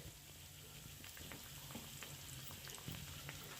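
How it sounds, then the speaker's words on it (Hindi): Mutton keema samosas fry in oil over very low heat, a quiet, steady bubbling sizzle with scattered faint pops and crackles, heard close but soft throughout. "बिल्कुल हल्की आंच में इसको फ्राई होने दें"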